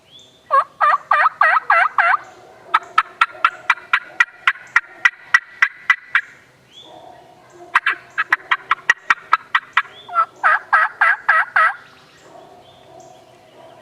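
A turkey call device imitating gobbling, loud rapid warbling bursts and sharp clucks repeating in rhythmic runs, close and clear.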